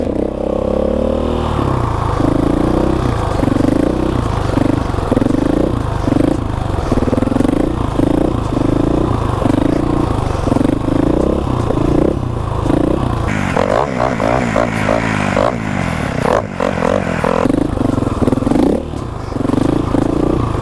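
A motorcycle engine runs loud and close, its rhythmic revving rising and falling as it pulls away, with rattling clatter mixed in throughout.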